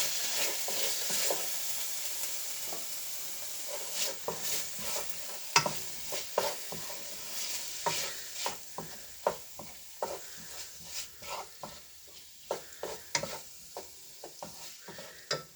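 Bulgur pilaf with tomato paste stirred in a pan: irregular soft scrapes and clicks of a spoon over a faint sizzle, fairly quiet and close, with no talking.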